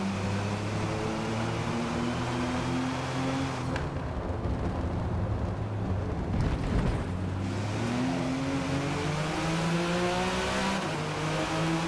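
A 1998 Porsche GT1 racing engine at Le Mans in Forza Motorsport, droning loud and steady at high revs, then dropping pitch sharply through downshifts before climbing again, with a constant rasping tone throughout.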